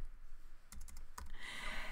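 Quick bursts of keystrokes on a computer keyboard as a search term is typed into a site's search bar, a few close taps followed by a faster run of clicks, with no voices.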